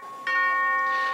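A memorial bell at the Journalist Memorial dedication ceremony in Washington rings once, struck clearly after a brief quiet lead-in, its steady ringing tone sustaining and slowly fading without any talk.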